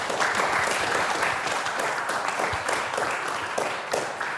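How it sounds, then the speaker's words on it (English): Audience applause after a string quartet piece by the Flinders Quartet, a steady dense wash of clapping held at an even level throughout, with no voices heard. "One more round of applause."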